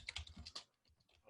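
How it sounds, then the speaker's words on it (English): Soft, quick keystrokes on a computer keyboard come in a short burst of clicks at close range, quiet and uneven, with no talk. "as you can hear my keyboard"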